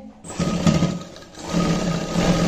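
A sewing machine stitches a zip into a sewn suit, its motor running close and steady, rising and dipping in speed through two short runs of stitching.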